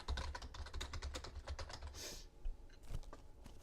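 Quick, close key presses on a computer keyboard while text is entered into a table cell, a soft, irregular clatter of a dozen or so taps with a brief pause near the end.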